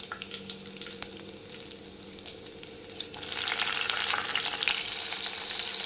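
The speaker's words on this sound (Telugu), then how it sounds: "వెల్లుల్లి వేసాము, ఉల్లిగడ్డ, పచ్చిమిర్చి, ఎండుమిర్చి, జీలకర్ర, ఆవాలు ఇలా ఆయిల్లో మంచిగా గోల్డెన్ బ్రౌన్ వచ్చే వరకు వేయించుకోవాలి" Garlic, onion, green and dry red chillies, cumin and mustard seeds frying in oil, a steady close sizzle that swells noticeably louder and brighter about halfway through, with faint stirring clicks and no talk.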